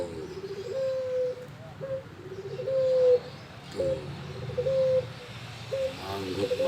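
Pet pigeons in courtship give repeated soft, throaty coos in a rolling rhythm, with several nearby calls overlapping at close range and no talking over them.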